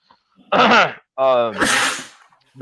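A single loud sneeze bursts out near the listener, followed by a short voiced exhale or groan.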